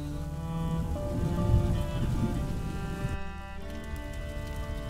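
Steady rain falls in the medieval game A Plague Tale, a constant close patter on surfaces layered over low rumbling ambience and faint tonal music, with no speech.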